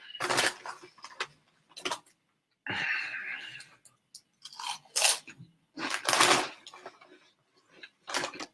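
Crunchy cheese snacks are chewed close to the mic in a run of loud, irregular crunching bites with short quiet gaps, mixed with breathing and mouth noises.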